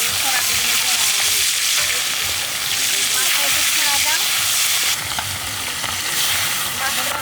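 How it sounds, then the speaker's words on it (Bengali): Catla fish frying in hot oil on a tawa, a loud, dense, continuous sizzle and crackle close by, with voices talking over it. "তাওয়া তেল হয়ে গেছে এখন কিন্তু মাছ দিচ্ছি"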